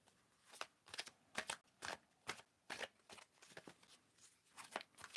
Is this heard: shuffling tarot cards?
yes